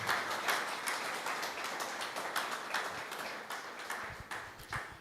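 A church congregation claps in rhythmic, moderately loud applause that continues steadily, with voices faintly mixed in.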